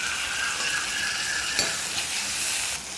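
Onions and tomatoes sauté with turmeric in a pan for a green pea gravy, giving a loud, continuous close-up sizzle with a faint scrape of stirring partway through.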